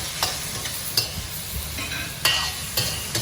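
Sauce is stirred into noodles in a hot wok, with a spatula clacking and scraping in a rough rhythm over a constant sizzle, close and fairly loud, with no talking.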